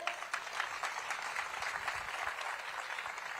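Clapping from an audience at an outdoor comedy show in a town square, steady and dense across the whole stretch with no talking over it.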